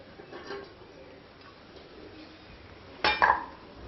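Black idli being taken off a steamer plate in a home kitchen, quiet handling followed by a sharp metallic clink and rattle of the steamer plate near the end.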